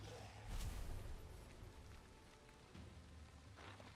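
Steady rain in the video game Valheim hisses on surfaces, with a low rumbling undertone that swells now and then.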